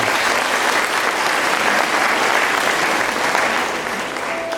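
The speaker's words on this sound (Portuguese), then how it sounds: "Uma salva de palmas para a nossa igreja." Steady, loud applause from a church congregation at a Catholic talk, dense clapping sustained throughout without pause.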